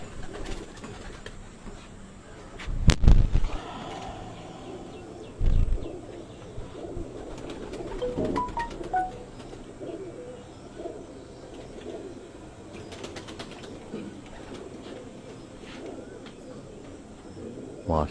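Racing pigeons coo softly and repeatedly at close range, broken by a few loud thumps and handling noises, with faint voices in the background.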